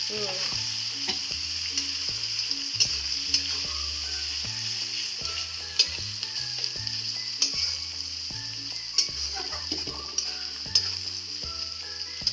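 Tomato pieces sizzle in hot oil with onions in a pan while being stirred for tadka dal. A steady close frying hiss runs throughout, with repeated light spoon scrapes and clinks, and no voices.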